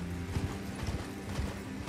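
A horse's hooves clip-clop at a steady trotting rhythm while riding in the Elden Ring video game, close and continuous over a low background hum.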